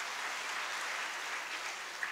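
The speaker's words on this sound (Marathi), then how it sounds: "जोरदार टाळ्या वाजवून घ्या." An audience at a Shrimad Bhagavat Katha gathering claps together in a steady, dense burst of applause, moderately distant and even in loudness.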